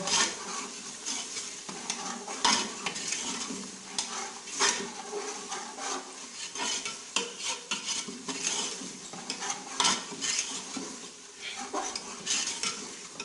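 A spoon scrapes and stirs fried mutton ojhri around a sizzling pan in a Pakistani kitchen, with rhythmic metallic clinks and rasps over a continuous frying hiss.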